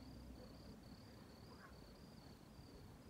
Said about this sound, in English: Boy, the crickets.